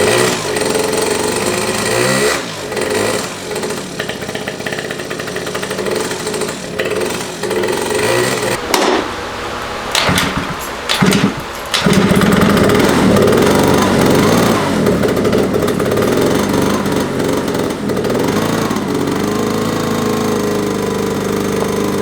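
Derbi GP1 scooter with a new pipe and racing variator, its engine cranked and then running loud and close with a raspy two-stroke drone, sputtering unevenly before settling into a steady roar.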